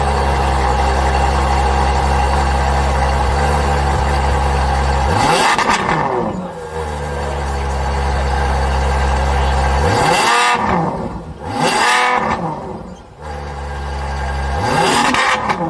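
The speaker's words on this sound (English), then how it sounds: "The Ferrari F12 has a naturally aspirated V12 engine." A Ferrari F12 Berlinetta with a naturally aspirated V12 idles loudly and deeply, then blips its throttle in several sharp revs that surge and fall back to idle.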